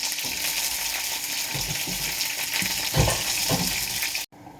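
Spice powders and dried red chillies frying in a pan for a Kerala-style varutharacha sambar, a steady close sizzle with scattered stirring scrapes and clinks, ending abruptly.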